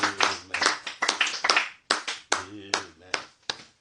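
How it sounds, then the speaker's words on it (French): A church congregation claps in a steady rhythmic beat, close and lively, with voices going on over it throughout. "Acclamons très fort."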